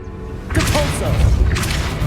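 A Depulso spell cast in Hogwarts Legacy, heard as a sudden booming burst with a whooshing rush that swells loud and is followed by a second blast, mixed with game ambience.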